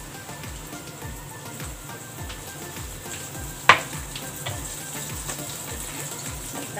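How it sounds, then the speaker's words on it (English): Fish fillet coated in flour and breadcrumbs frying in oil, a steady low sizzle with faint bubbling crackle throughout and one sharp clink midway. "At lagay po natin yung fish fillet that we dip in the flour and breadcrumb."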